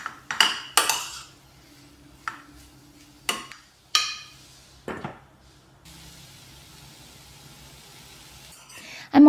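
Utensil stirring and scraping a hot pan of mashed potato dosa filling in a home kitchen, heard as scattered sharp clinks and scrapes with quiet gaps between them and a louder clank at the very end.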